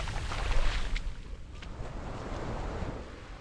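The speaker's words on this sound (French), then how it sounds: "Vous voyez les vagues qu'on fait" Ocean waves wash onto Surin Beach in Phuket at high tide, a steady broadband surf roar with gentle swells and some wind buffeting, fairly close and continuous, with no voices.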